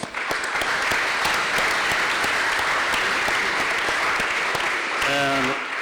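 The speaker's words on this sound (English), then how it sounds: "Let's give them a little applause" Sustained applause from an audience for a panel of speakers, dense and steady throughout, with a voice briefly cutting in near the end.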